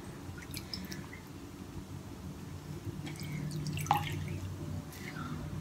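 A towel soaked in hot water drips and squishes quietly in a bowl at home, with scattered soft drops over low background hum and one sharper drip midway.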